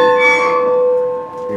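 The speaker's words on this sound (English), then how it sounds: "Fireman will be the one ringing the bell" A steam locomotive bell, rung by rope, rings with a clear, sustained metallic tone that hangs steadily and fades only slightly, heard up close.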